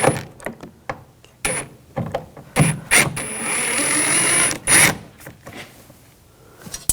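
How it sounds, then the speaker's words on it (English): Ratchet with a T20 socket backing screws out of a 2000-2006 BMW X5 door, close clicking ratchet strokes and short clacks of handling, with a longer continuous ratcheting run in the middle. "I'm going to take these screws out, use a T20 socket"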